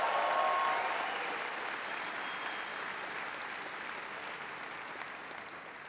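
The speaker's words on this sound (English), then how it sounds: "Let's get a round of applause." Applause at a summer commencement ceremony, a large crowd clapping steadily, loudest at first and easing slowly as it continues, with no voices standing out.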